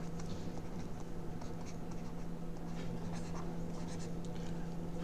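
Chalk or marker scratches steadily across a board while an equation is written out in a physics lesson, a soft, continuous patter of short strokes under a faint constant hum.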